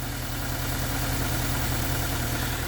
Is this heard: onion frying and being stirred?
no